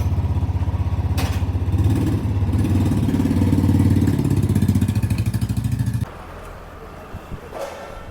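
A motorcycle engine idles with a steady, close, pulsing throb for several seconds, then cuts off abruptly, leaving quiet background with faint scattered sounds.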